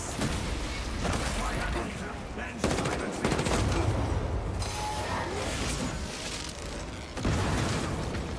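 Las rifles fire in the Space Marine 2 video game, a dense, loud, continuous crackle of rapid shots with heavier bursts mixed in and voices beneath the barrage.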